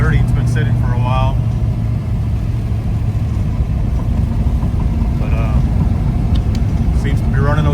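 An old car that has sat unused for a while, with a dirty windshield, drives through a neighborhood; its engine hums loud and steady throughout while someone talks over it.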